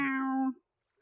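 A group of people imitating a cat's meow together, a single drawn-out voiced meow lasting about half a second, fairly loud and close, followed by silence.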